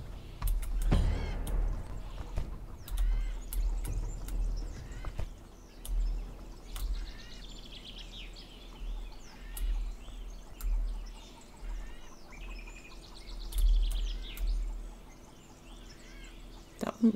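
Birds call in a survival video game set around a fountain of youth, with repeated chirps and caws rising over a low ambient rumble and occasional clicks, fairly faint throughout.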